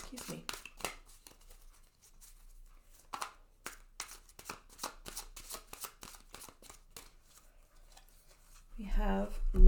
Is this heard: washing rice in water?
no